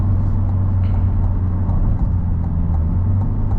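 A Chevrolet Corvette C8 Z51 with HTC runs in touring mode, giving a steady low engine and road drone heard from inside the cabin, even and unbroken.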